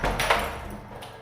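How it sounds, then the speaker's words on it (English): An interior door leading into a garage is slammed shut and locked: a sharp, close thud followed by a couple of quick knocks and a fading rattle. "slammed the door that led into the garage and shut it and locked it."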